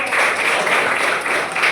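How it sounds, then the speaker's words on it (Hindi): A group of children clap their hands together during a classroom lesson, a dense, continuous patter of applause lasting under two seconds with no pauses. "वेरी गुड, ताली बजाओ।"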